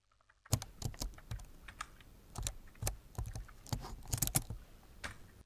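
Quick, uneven bursts of keystrokes on a computer keyboard as data is entered into an Excel sheet, close and fairly quiet, with short pauses between runs of typing.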